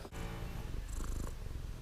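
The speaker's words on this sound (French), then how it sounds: "je vous fais un plan de mon chat" A cat purring steadily and close up, a continuous low rumbling vibration with faint rustling over it.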